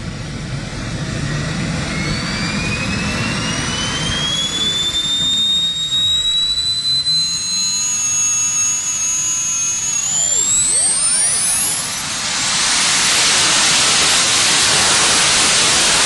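A jet engine roars steadily for about sixteen seconds, with high whines sweeping up and down in pitch and a broad hiss swelling louder near the end.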